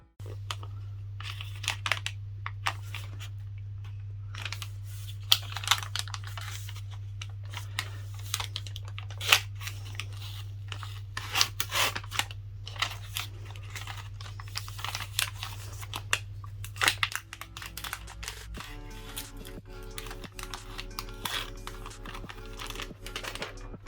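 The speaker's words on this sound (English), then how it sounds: "Once again, I struggle to peel off the plastic." Protective plastic film peeled off a Lenovo Tab P12 Pro tablet, heard as a steady stream of close crackling and crinkling with scattered sharper ticks, over a low constant hum.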